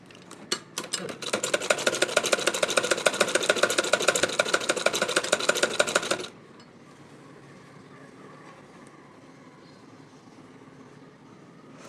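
A sewing machine stitches a kurti with a steady rapid rattle for about six seconds, then stops, leaving a quiet room hum.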